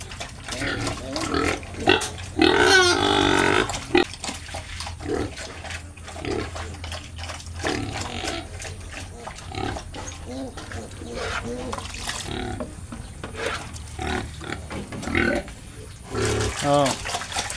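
A nursing sow in her pen grunts and snuffles steadily while eating a feed of water spinach and rice bran, with close, irregular grunts, some liquid sloshing and a person speaking now and then.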